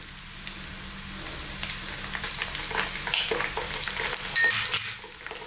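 Chopped onion and garlic ginger paste fry in a pan, a close, steady sizzle broken by the scrape and clatter of stirring, with a louder burst of stirring near the end.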